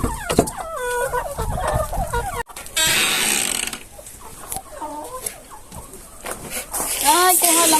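Farm chickens, hungry and about to be fed corn, cluck and squawk close by in repeated bursts, with a person talking over them and a rustle of movement partway through.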